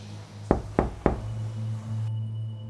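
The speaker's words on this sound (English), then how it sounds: "there was a knock at the door." Three sharp knocks on a door in a quiet house, evenly spaced and close, followed by a low steady room hum with no voices.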